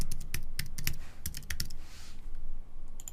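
Someone taps quickly on a computer keyboard while filling in a login form, close, crisp key clicks in short bursts with brief pauses between them and no voice.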